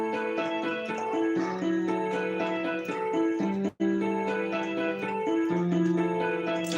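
An instrumental song intro plays back: layered sustained melodic notes and chords that continue steadily, broken by a brief dropout near the middle.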